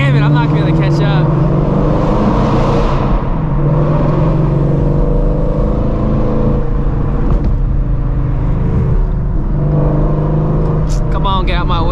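Coyote V8 Ford Mustang engine roaring loudly and continuously nearby, revving hard while driving past amid road noise.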